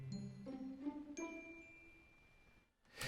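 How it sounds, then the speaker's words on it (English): Bright glockenspiel notes ring over sustained bell tones in an orchestral Christmas arrangement, a few struck chimes decaying in sequence before a brief swell near the end. "I do have, yes, the Glockenspiel together with the bell tower, just beautiful."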